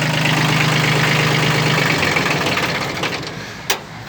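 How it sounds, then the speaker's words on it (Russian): A Kubota B1502 Japanese mini tractor with a rotary tiller runs at a steady idle, a loud close diesel drone with an even low hum that eases off slightly near the end, capped by a single sharp knock. "Двигатель работает ровно, четко."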